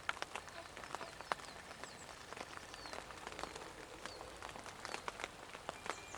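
Outdoor rain falls steadily in the countryside, heard as faint, scattered pattering with sharp individual drop ticks against a soft hiss, without talking.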